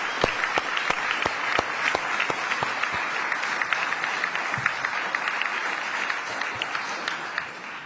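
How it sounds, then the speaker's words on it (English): An audience at a boxing launch press conference gives a steady round of applause, with dense, even hand claps heard from a short distance for several seconds, alone and without talk. "if we could all just give a big round of applause to the great Tartan Tornado, Josh Taylor."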